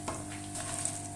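White cumin seeds and a curry leaf dropped into hot oil, a brief burst of close sizzling and crackle that settles into a steady hiss with no talk.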